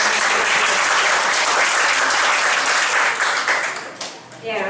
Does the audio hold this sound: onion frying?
no